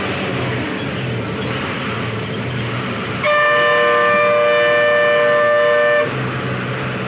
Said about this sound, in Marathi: आपल्या बसचा हॉर्न आहे.